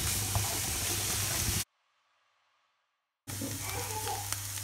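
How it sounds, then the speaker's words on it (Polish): Chopped onion sizzles in a hot frying pan with oil, a steady loud hiss that cuts out briefly and then resumes. "obsmażamy naszą cebulkę soskiem"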